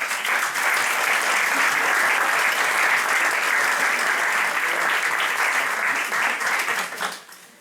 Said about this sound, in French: Donc je vous demande d'applaudir le bureau.